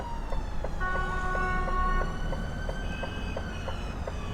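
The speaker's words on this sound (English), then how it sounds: "You can hear an ambulance coming or something from somewhere." A distant ambulance siren wails faintly over the steady road rumble inside an HGV cab, its rising and falling tone drifting above the engine drone.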